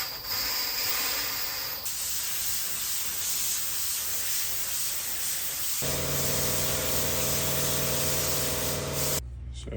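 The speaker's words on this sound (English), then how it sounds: "I'm gonna shoot epoxy primer on this just because I don't really trust anything else." Spray gun shooting epoxy primer onto a John Deere Model 40 starter part: a steady, loud hissing spray runs almost throughout, its tone shifting partway through before cutting off abruptly near the end, with no talk.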